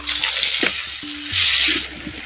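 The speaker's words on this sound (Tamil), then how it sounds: "சேர்த்த தக்காளி பழத்தை அப்படியே நல்லா கிண்டி விட்டுக்கும்" A spoon stirring tomatoes sautéed in oil with small onions and coconut, a soft scraping and sizzling that runs steadily throughout, alone with no talking.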